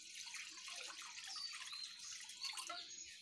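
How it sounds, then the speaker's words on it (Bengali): Rinse water runs off rinsed lentils in a steady, soft, trickling stream with faint drips, continuous and fairly quiet, with no voices. "এবার ধুয়ে নিলাম, এই জলটা ফেলে আমি ভালো জল দিয়ে ডাল সেদ্ধ করব"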